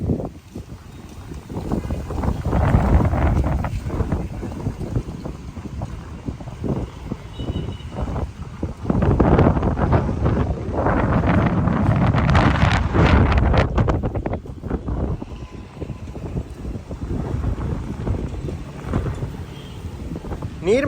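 Strong wind buffets the microphone outdoors in Batticaloa during cyclone and flood conditions, loud gusting roars that surge and ease in waves across the whole stretch.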